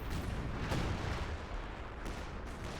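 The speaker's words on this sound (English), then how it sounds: "some artillery shells" Artillery shells land in a video game, a dense rumbling barrage with a couple of sharper blasts breaking through the steady roar.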